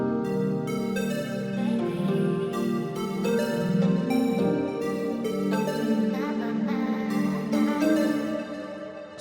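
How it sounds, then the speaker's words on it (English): Cubic Math plug synth preset from FL Studio Flex for an amapiano pop beat, playing a steady, loud chordal pattern of bright repeated plucky notes over a warm low layer, with no voices. "It's called Cubic Math"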